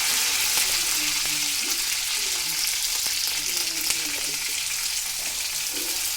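Cumin, mustard seeds and garlic sizzle in hot oil for moong dal, with a continuous close crackle and a few small pops running through the whole stretch.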